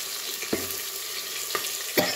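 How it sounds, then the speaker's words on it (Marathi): Chopped onion with cumin, asafoetida and green chilli sautéing in oil in a clay pot, giving a soft steady sizzle with a few distinct scraping strokes of the spoon at intervals. "कांदा चांगला मऊ परतून घ्यायचा आहे आपल्याला"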